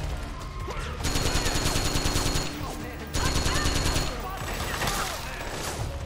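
Sustained automatic gunfire bursts in the video game Metal Gear Solid 4: Guns of the Patriots, two long rapid volleys with a short gap between them, loud and dense with clatter.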